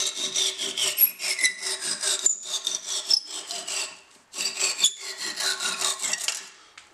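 Rasping strokes of a file or saw trimming the wooden handle where it sticks up through a newly hung axe head, a steady series of close scraping passes with one short pause midway.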